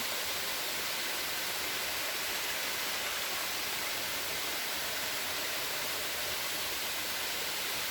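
A waterfall at Timberland roars as a constant, dense rushing wash of water, steady and unbroken throughout, heard alone without voices.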